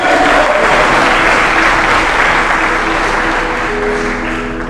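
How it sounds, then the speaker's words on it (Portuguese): A church congregation applauds during an evening worship service, producing loud, sustained clapping that fades slightly toward the end, with some music or voices faintly underneath. "Você pode aplaudir o Senhor nessa noite?"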